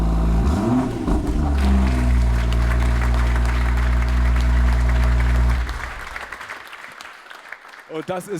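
A 2016 BMW M2 Coupé engine starts and revs hard, its exhaust roaring loudly at high RPM, then settles to a lower idle rumble as applause follows.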